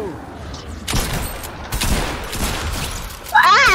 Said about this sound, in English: My harpoon shot.